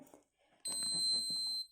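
A nasoduodenal tube feeding pump gives a single sustained high-pitched electronic beep on startup, about a second long, over faint background noise.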